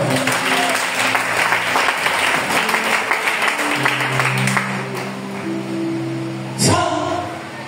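A church congregation applauds the Lord with sustained, dense clapping that fills the room, while a voice carries on under the applause before it tapers off near the end.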